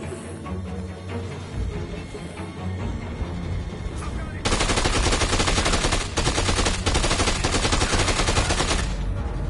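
Gunfire in Dead Rising 2: a few scattered shots first, then a loud, dense, rapid burst of automatic fire that rattles on for several seconds before easing off.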